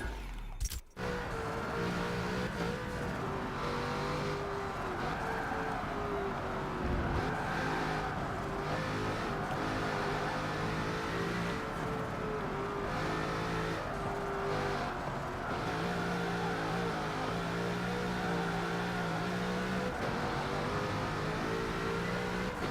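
Bugatti Chiron engine in the racing game Forza 7, a steady loud high-revving drone with shifting tonal bands as the car accelerates and gears change, continuous and close throughout.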